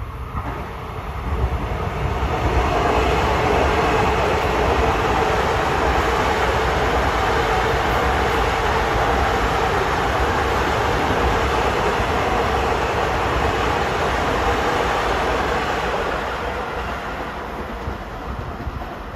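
A westbound Long Island Rail Road train rolls through Elmont station without stopping, a steady loud rumble and rail roar building quickly and holding close by before easing off near the end, with no voices.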